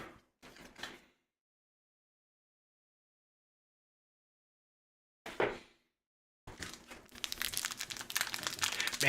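A foil Marvel trading card pack crinkles as it is opened, with short crackling handling bursts separated by silence, then a longer, denser run of close crinkling and tearing, and no voices.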